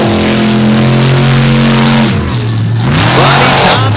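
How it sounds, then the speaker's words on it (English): Race cars roar on a muddy dirt oval at an All Stars event in Naples, one loud engine near the mic, its pitch holding steady and then dropping as it backs off and revs again. "Good start for Tompkins right now"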